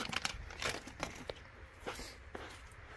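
Plastic packaging around a repaired ABS module for a 2013-2017 Honda Accord is unwrapped close by, with quiet crinkles and short tearing rustles coming in irregular bursts.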